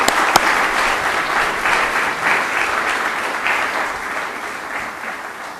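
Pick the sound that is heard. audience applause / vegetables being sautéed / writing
audience applause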